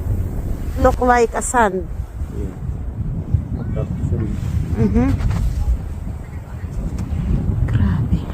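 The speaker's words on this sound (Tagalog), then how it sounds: "Grabe, ang lakas ng hangin." Strong wind gusting across an open frozen lake, a steady broadband rush buffeting the microphone throughout, with people talking over it.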